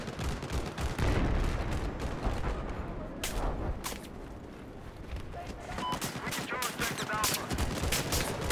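Gunfire in the Battlefield 4 game on the Hainan Resort map, with sniper shots among a dense, continuous barrage of overlapping shots and explosions that stays loud throughout, with brief sharper cracks standing out.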